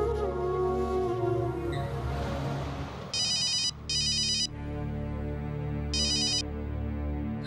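A telephone rings while a call is placed, three short electronic ringback bursts, two close together and one after a pause, over a quiet musical background with no talk.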